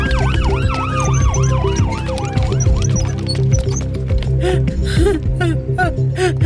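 An ambulance siren wails loudly and close, its rising and falling tone repeating over car and engine noise, with scattered clatter toward the end and no speech.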